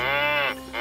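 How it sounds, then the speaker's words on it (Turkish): A toy plays a short, buzzy electronic cow moo, drawn out and steady, then cuts off with a short pause. "O bir inek sesi."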